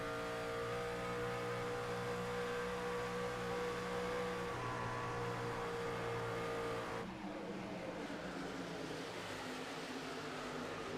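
Race trucks in a Frontier Truck Tour event run around a Michigan oval, with steady engine roar and revving that fades and shifts as a pack passes, loud and continuous with no talk.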